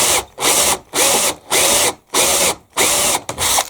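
A power drill boring into a dry wooden gate in repeated short bursts, about six pulses of whirring grind separated by brief silences, close and loud.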